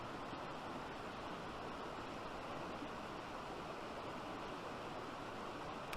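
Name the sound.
mountain stream flowing water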